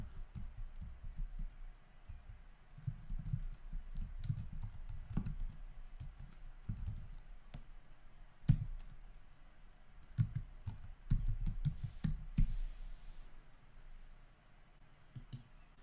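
Typing on a computer keyboard while entering an email address on a web hosting signup form: irregular bursts of close, soft key clicks with brief pauses, alone without talk.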